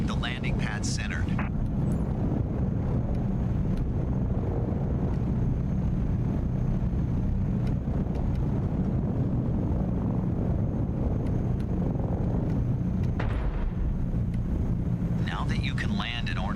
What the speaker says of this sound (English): Now that you can land an ornithopter, you've got all the basics to fly on Arrakis.